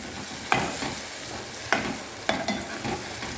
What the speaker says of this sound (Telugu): ఇట్లా మీడియంలో ఫ్రై చేసుకుంటే బాగా ఫ్రై అవుతుంది